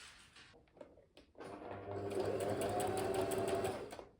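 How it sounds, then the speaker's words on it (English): Sewing machine whirring up to speed and stitching a dress hem steadily for about two seconds, close by, after a few soft handling clicks and a quiet pause. "Now I'm going to sew this on the sewing machine"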